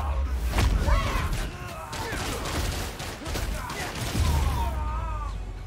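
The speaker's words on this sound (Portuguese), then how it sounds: "Policial que tava atirando ou era tiro em mim?" Police firing guns in Spider-Man Miles Morales, a burst of repeated shots and thuds mixed with game effects, close and irregular, with a voice talking over parts of it.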